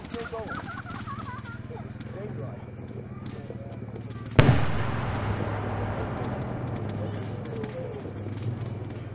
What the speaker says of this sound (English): That was the 4 rockets he's made by himself.